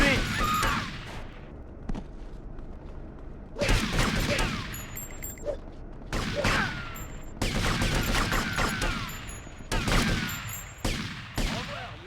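Gunfire in GTA Vice City, with bursts of shots and rapid volleys crackling in clusters over several seconds and short gaps between the bursts, loud and close.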